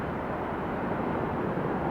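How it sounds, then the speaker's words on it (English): A Boeing 757 descends to land at Atlanta Hartsfield airport, its engines making a steady, broad, low roar that stays even and fairly distant throughout, with no talk. "757 coming down."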